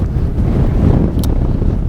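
Strong wind buffets the microphone on a high, exposed spot on an island near boats, a loud, continuous low roar with gusty rumbling throughout and a brief hiss partway through, no voices.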